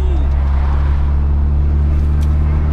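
A Volkswagen Gol Quadrado with a freshly cleaned carburetor drives along, its loud, steady low engine drone and road rumble filling the whole clip without a break.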